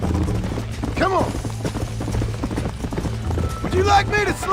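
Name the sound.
horse hooves galloping in video game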